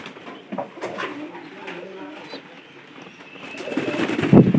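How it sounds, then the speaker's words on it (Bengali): Domestic pigeons coo indoors in a loft on a rainy day, soft repeated low calls close by, growing fuller and louder toward the end amid faint background noise. "এটা এই ঘরের কবুতর।"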